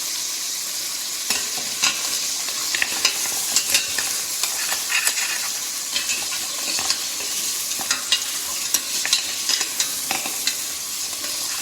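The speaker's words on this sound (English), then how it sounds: "Now searing is almost done." Garlic searing in a pan as the base for a stew, a steady close sizzle with repeated clinks and scrapes of stirring throughout, no voices.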